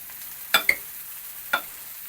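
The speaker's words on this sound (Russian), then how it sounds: "Все перемешиваем с нашими помидорами, помидорками одесскими." Beef tartare is mixed with Odessa tomatoes in a quiet setting, with three brief, close clinks and scrapes of a utensil against a bowl, two close together and one a moment later.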